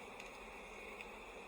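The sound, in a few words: bees buzzing on beehive frames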